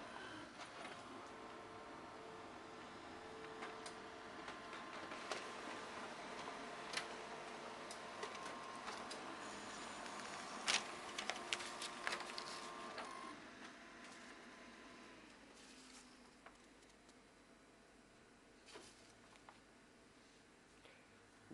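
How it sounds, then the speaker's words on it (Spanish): An HP CP3505n color laser printer runs a print job with a steady mechanical whir, scattered ticks and clicks, and paper-feed clatter. The noise fades toward the end as the job finishes. "Esto es para que vean que funciona, la impresora está andando."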